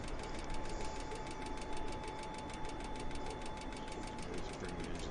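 Aircraft engines in Microsoft Flight Simulator 2020 drone steadily with a rapid rhythmic pulsing and a constant whine, moderately loud with no talk over them.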